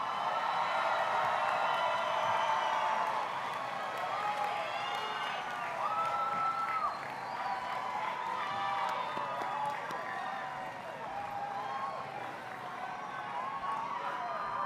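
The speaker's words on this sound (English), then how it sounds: "graduates, please turn and face the audience and receive their applause." Sustained crowd applause and cheering for graduates at a university commencement ceremony, a loud continuous wash of clapping with scattered whoops from a large audience, steady for the full duration.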